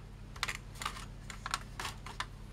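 Plastic keyboard retaining clips on a ZX Spectrum +2a computer are unclipped one after another, giving a series of about seven close, sharp clicks and snaps at an uneven pace against a quiet background.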